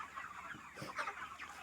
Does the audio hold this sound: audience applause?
no